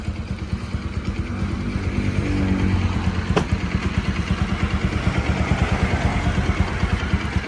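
A Bajaj 200NS motorcycle runs after engine work, its engine idling close by with a steady, rapid thumping pulse and a brief swell in revs early on.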